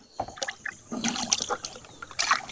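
A quarter litre of fermented fish amino liquid (meena amrutham growth promoter) is poured into a water drum, giving close trickling and splashing bursts that come and go.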